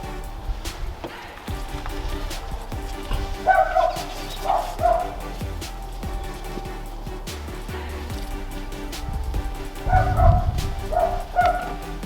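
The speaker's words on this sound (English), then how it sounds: "Dog's not happy." A dog outdoors barks in a few short bursts of sharp yaps and whines, moderately near, separated by pauses, with a low rumble of background noise and no clear speech.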